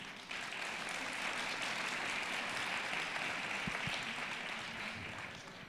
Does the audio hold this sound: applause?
yes